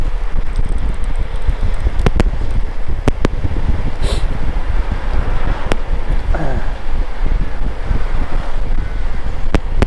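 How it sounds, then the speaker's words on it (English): Strong wind buffets the microphone on an exposed clifftop ride near the Needles, blowing at about 30 miles an hour as a loud, continuous roar with a few sharp knocks throughout. "how the mic is picking up my voice now with this wind at 30 miles an hour"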